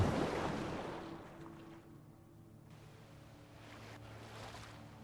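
Rushing water from two waterfalls in the video game Brothers: A Tale of Two Sons, a faint, steady wash of noise that is a little louder at the start, then eases back and lingers.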